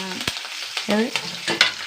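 Curry leaves and spices, including green chillies, splutter in hot oil. Sharp crackling pops burst out close and loud over a brief sizzle, with short stirring sounds between them.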